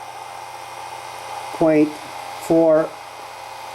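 A generator coil motor running under a load test hums steadily, then twice rises into a short, higher whining whir as its speed picks up, with a voice briefly speaking over it.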